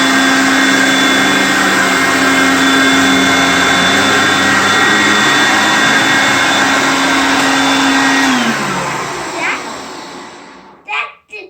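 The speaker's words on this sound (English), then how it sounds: "Now we'll try the Hoover Concept 1 again." A Hoover Concept 1 vacuum cleaner runs with a loud, steady motor whine, then switches off and winds down over a couple of seconds, followed by a few faint clicks and knocks.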